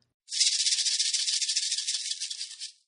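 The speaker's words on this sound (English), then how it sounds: "Snake shook the maraca hard." A maraca is shaken hard in one continuous, fast, bright rattling burst lasting about two seconds. It starts abruptly, then fades, heard alone over silence.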